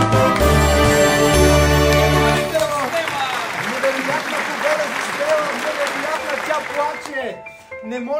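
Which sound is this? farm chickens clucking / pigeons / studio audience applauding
studio audience applauding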